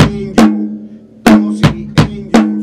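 Snare and bass drum alternating in quick strikes, one hit, a pause, then a run of four evenly spaced hits, loud and close.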